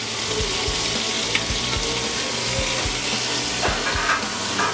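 Cut-up beef fries in canola oil in a pan, a loud continuous sizzle with periodic soft knocks and scrapes of stirring underneath, close and unbroken, no one speaking.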